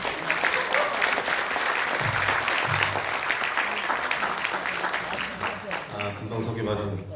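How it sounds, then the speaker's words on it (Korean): Crowd at a Korean political party launch ceremony applauds to welcome a speaker, sustained dense clapping throughout with a voice and faint music-like tones underneath. "박수로 환영하겠습니다"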